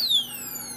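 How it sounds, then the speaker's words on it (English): An alarmed motorcycle disc brake lock sounds its alarm: a short, fairly faint, high electronic tone that slides slowly downward. "also the alarm as it's going off there"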